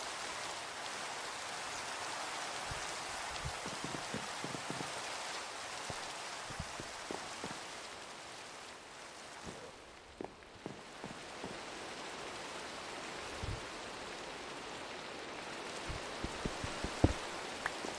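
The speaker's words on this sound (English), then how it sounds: "I love when Minecraft rain starts sounding like a tornado." Steady Minecraft rain hisses all the way through, with scattered drips and taps sounding close by.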